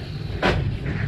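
A single sharp hammer blow lands on metal, a hard knock that decays quickly against a quiet background.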